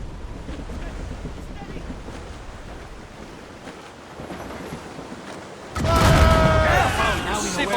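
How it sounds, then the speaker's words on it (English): Wind and ocean waves at sea aboard a sailing warship in the video game Assassin's Creed Rogue: a steady, close, blustery roar that swells into a louder, harsher surge of wind and spray near the end. "That wind's trouble, Captain Cormac."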